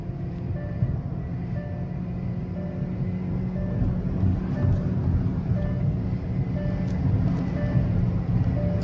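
Steady, droning engine and road roar from a 2024 Hyundai Verna sedan held in fourth gear during a top speed run, continuous and loud inside the cabin.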